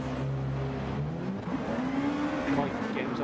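Race car engine in a racing video game pulling out of the pit box on soft tyres at the Nürburgring GP circuit, a steady drone whose pitch climbs as it gets underway, with tyre noise and other cars around it.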